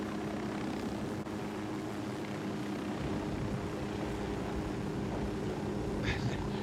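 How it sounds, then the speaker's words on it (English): Helicopter in the Ghost Recon Wildlands video game, its steady rotor and engine drone filling the scene at a constant, moderate level without any voices. "Helicopter full of people."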